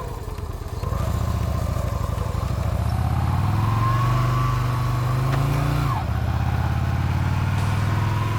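A Yamaha motorcycle pulls away as the clutch is eased out, the engine note climbing in a smooth rev before dropping off and settling back to a lower idle, close and loud.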